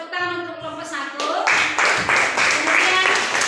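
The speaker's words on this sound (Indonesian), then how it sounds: "Oke, tepuk tangan untuk" A class breaks into applause for a student group during a primary-school coding and computational-thinking lesson, loud and fairly steady clapping that follows a brief moment of voices.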